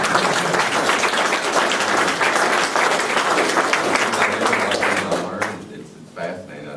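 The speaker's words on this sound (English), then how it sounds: "That was extremely interesting, and I think deserves of another round of applause." A full room of listeners applauds after a talk at a historical lecture about a Knoxville judge, sustained, loud clapping with a steady rush that drops off near the end, followed by a few stray claps.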